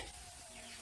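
Potatoes sizzle in a frying pan with a steady, close hiss of hot oil that never lets up.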